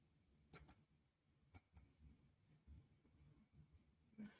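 A few sharp, faint keyboard key clicks, two quick pairs about a second apart, over a quiet background with soft low murmurs.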